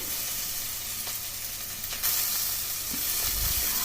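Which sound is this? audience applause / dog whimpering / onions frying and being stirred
onions frying and being stirred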